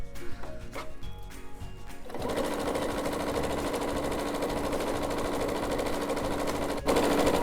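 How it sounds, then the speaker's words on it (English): A sewing machine stitches fabric for outdoor pillows with a steady, rapid whirring rattle close by. A few handling clicks come first, then the machine runs continuously with a short pause near the end. "I'm not sewing very precisely. These are just easy outdoor pillows"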